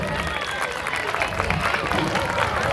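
An audience of parents and students at a school function applauds, a broad, continuous wash of clapping from a crowd with some voices mixed in, steady and fairly loud throughout.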